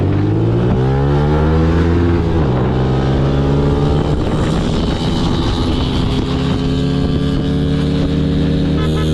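A Yamaha YBR and a Honda SP 160 motorcycle accelerate side by side in first gear, engines climbing loud and close in pitch with rising revs and a gear-change dip, no talking over them.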